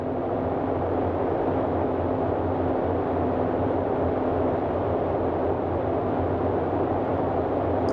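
Twin radial engines of a Boeing 247D throttled back in flight in Microsoft Flight Simulator 2020, a steady, even droning rumble that holds constant throughout with no talk.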